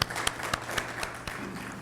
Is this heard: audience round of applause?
yes